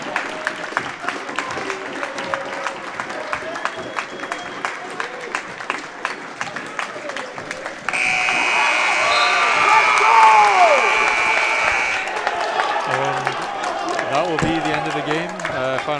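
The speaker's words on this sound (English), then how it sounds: "both fans, both benches applauding the effort here at the end of the game" Fans and both benches applaud at the end of a high school boys' basketball final, with sharp, scattered claps and shoe squeaks that swell into a denser burst of clapping and cheering, under a commentator's voice.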